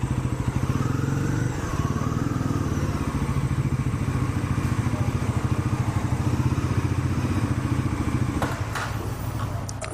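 A Bajaj Pulsar NS400Z motorcycle engine runs steadily at a service centre, a continuous close, loud mid-pitched throb with a few faint clatters near the end.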